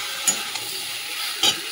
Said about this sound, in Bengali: এর মধ্যে যে মাছের তেলটা দিয়ে দেবো, দিয়ে নুন হলুদ দিয়ে ভাজা ভাজা করবো